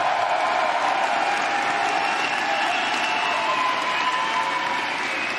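Esports crowd at a live League of Legends stage event, steady loud applause and cheering from a large audience filling the whole stretch without a break.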